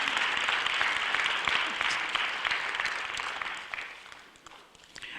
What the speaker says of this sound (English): let's give Al Edwards a round of applause.